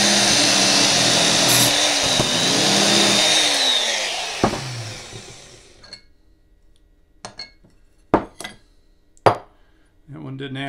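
A power drill bores holes through metal pieces with a stop set for the hole location, a loud whining grind for several seconds that winds down, followed by a few sharp metallic clinks.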